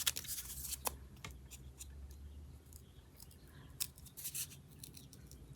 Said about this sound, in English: This actually cuts out better with my little tiny scissors